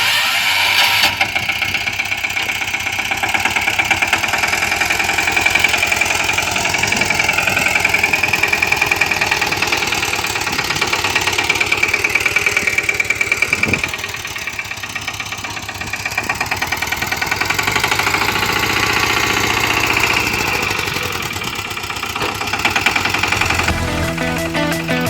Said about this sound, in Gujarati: તો ચલો અત્યારે ટ્રેક્ટરથી પ્લીન કરી નાખી.